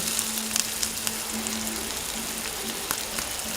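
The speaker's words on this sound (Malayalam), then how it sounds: "പിന്നെ വെളുത്തുള്ളി ഇഞ്ചി ഒക്കെ കൂടി ചതച്ച് വെച്ചതാട്ടോ അതൊന്ന് മൂപ്പിച്ചെടുത്തേ" Crushed garlic and ginger frying in a pan after the mustard seeds, for a chicken curry: a steady close sizzle with scattered small crackles and a faint background hum, no voices.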